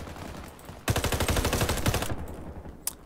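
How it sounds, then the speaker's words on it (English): Rapid automatic gunfire in the video game Warface bursts out loudly in a dense, rattling string for about a second, then cuts off, followed by one sharp later shot. "People are shooting at him and he goes for me."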